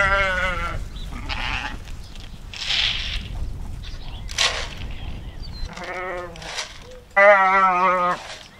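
Sheep and lambs bleat at feeding time on a homestead, several loud, close calls at the start and end with a person talking in between.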